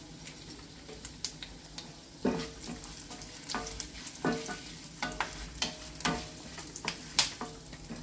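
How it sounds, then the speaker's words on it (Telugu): Black pepper, cumin and asafoetida fry in hot oil for a pongal tempering, a soft continuous crackle broken by sharp taps and scrapes of a spoon stirring the pan, with no voices. "తాలింపు వేగిందండి."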